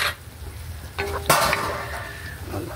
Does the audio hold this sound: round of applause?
no